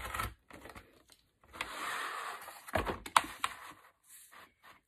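Quiet scraping and scoring as a blade is drawn along a ruler through sheet material for a classroom bulletin board awning, coming in short irregular strokes with small clicks and rustles between them.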